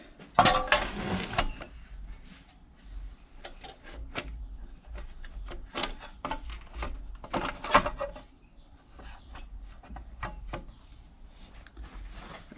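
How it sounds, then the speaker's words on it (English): A cover slides back into place on a small engine part, giving a scraping rub at the start, then scattered light clicks and taps of handling, close and fairly quiet. "Slide the cover back on."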